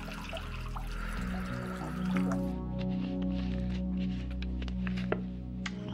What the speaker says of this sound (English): take a deep breath with me now while I pour the water